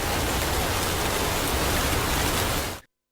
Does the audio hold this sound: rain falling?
yes